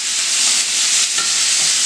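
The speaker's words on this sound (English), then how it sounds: "And then what's going to happen is you'll hear that start to sizzle." Stuffed chicken breasts sizzle loudly in a hot pan, a constant bright crackling hiss close up with no voices.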